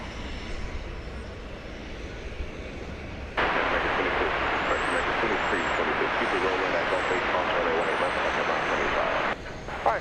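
American Airlines airliner departing Dallas Fort Worth for Denver: after a low background rumble, a loud steady jet engine roar surges in and holds for several seconds before abruptly dropping back.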